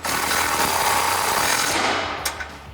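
An impact gun with a 16mm socket tightens a nut on a Barricade NB1 running board fitted to a 2021-2023 Ford Bronco. A loud, continuous rattling burst lasts about two seconds, then stops, followed by a couple of faint clicks.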